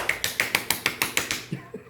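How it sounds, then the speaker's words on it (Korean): A person claps in seal-style fashion, about ten sharp, evenly spaced claps in a quick rhythm, close and alone, ending with a couple of softer thuds. "이게 물개 박수야."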